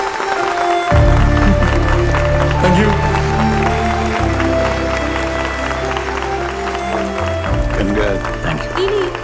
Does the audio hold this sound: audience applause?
yes